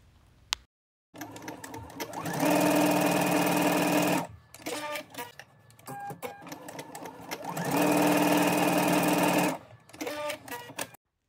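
A sewing machine basting the raw edges of a welt pocket runs in two long, loud bursts of rapid stitching, with short stops and a few quieter stitch runs between them.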